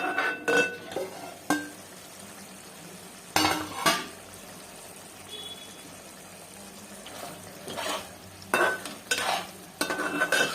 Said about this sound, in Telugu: ఈ వాటర్తోనే మనము సన్న మంట పెట్టుకొని ఉడికించుకోవాలి